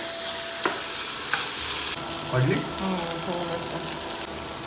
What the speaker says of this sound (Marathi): झाकण न ठेवताच मी भेंडीची भाजी शिजू देणार आहे